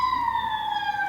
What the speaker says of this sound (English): Alternian police cars had ambulance sirens just to confuse people